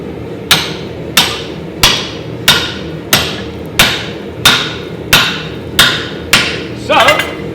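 Sledgehammer blows on hot steel while forging a hatchet: about ten loud, evenly spaced metallic strikes ringing close by, each decaying quickly before the next, ending in a rougher, scraping impact.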